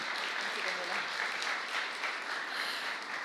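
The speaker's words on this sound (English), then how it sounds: "Big applause for Florence as well" A crowd at a gala claps steadily and densely throughout, a continuous wash of applause with some voices mixed in.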